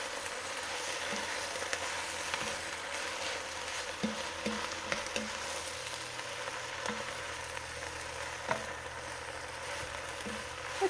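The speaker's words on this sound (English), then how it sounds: "Start stirring them up, and once they cook down enough to fit the other bag in" Greens cooking down in a pan with a steady, moderate sizzle throughout and occasional soft taps and stirring scrapes, with no talking.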